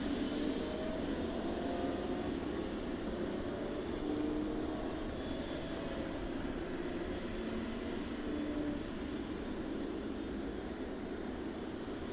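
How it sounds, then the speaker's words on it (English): Aircraft engines run steadily after startup at East Midlands Airport on a cold evening, a constant distant drone and whine holding at an even level throughout. "That one just finishing its startup process. Should be making its way down onto the taxiway under its own power"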